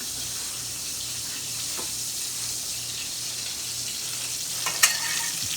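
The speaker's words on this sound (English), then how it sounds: "And while this is cooking, let's put the" Garlic frying in butter in a pan, a steady close sizzle and crackle that holds evenly, with one sharp clink near the end and no talking.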